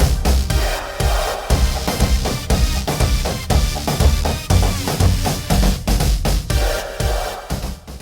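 Upbeat electronic game music from Jackbox Party Pack 7 plays loud and alone with a steady punchy beat and dense layered synths throughout.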